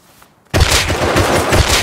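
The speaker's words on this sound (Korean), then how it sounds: "큰집 쪽에서 쏜다" After a brief quiet moment, loud, close gunfire erupts in the survival game Rust as a rapid burst of repeated shots that continues without pause.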